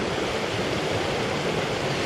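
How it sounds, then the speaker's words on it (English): A creek on rural California waterfront land rushes steadily as continuous broadband water noise, close and even, with no voices. "This is a nice creek, man."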